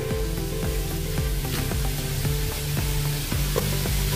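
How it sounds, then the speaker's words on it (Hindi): Water heating in a pot for a rice-flour breakfast dish, with a steady hissing, bubbling simmer and occasional soft clinks, continuous and close. "पानी अभी उबलने लगा है, ये देखिए।"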